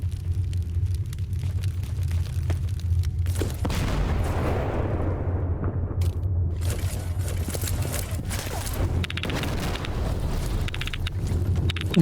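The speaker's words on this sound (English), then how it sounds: "No, I have no idea what that first explosion was." A deep explosion booms in the video game Stalker: Shadow of Chernobyl, a broad blast with a long rolling tail over a constant low ambient hum.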